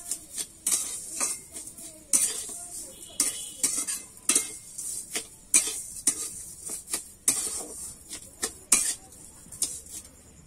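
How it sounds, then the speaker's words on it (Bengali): A spatula scrapes and knocks repeatedly in a pan while raw mango laddu mixture with sugar is stirred, sharp irregular clinks and scrapes close up, with no talk. "এবারে কিন্তু খুন্তি দিয়ে ভালো করে নাড়িয়ে চাড়িয়ে নেব।"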